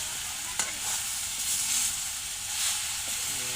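Turmeric being stirred into food frying in a pan for a moringa-leaf dish, a steady close sizzle with a couple of sharp utensil scrapes against the pan; no talking.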